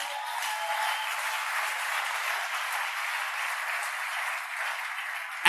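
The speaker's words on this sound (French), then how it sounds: "je vous acclame et acclamez pour vous-même" Sustained applause from a church congregation during a worship service, a dense, even clatter of many hands clapping alone throughout.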